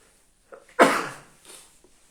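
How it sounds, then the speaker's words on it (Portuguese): A single sharp sneeze bursts out close by after a short inhale, fading quickly into quiet breathing. "Clima frio, vou dar uns espirros aqui de vez em quando."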